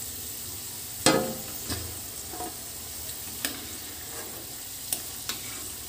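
Mixed bhujia pakoras fry in hot oil, giving a soft, continuous sizzle, with a sharp scrape or clatter near the start and a few lighter taps of a utensil that follow.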